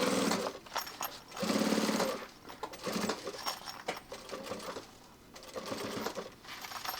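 A sewing machine stitches EcoPak 600 fabric for a tech kit bag, running in short bursts of rapid mechanical chatter separated by brief pauses, fairly close and moderately quiet.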